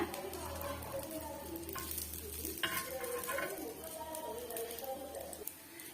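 Egg frying in a pan over a medium flame for a side dish, a steady sizzle running throughout with occasional scrapes and stirring clatter as it is turned.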